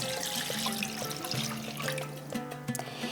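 Milk, two cups of it, is poured into a kadai as a trickling, splashing stream of liquid, fairly quiet and close, with light clinks.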